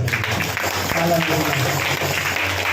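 A church congregation claps for the Lord during a service, a dense, steady wash of applause filling the room, with voices mixed in underneath.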